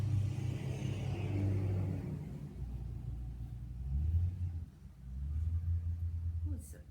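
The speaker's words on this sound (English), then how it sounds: "Big truck drove" A big truck drives past outside, a deep low rumbling that swells, fades and swells again, heard from indoors at moderate loudness.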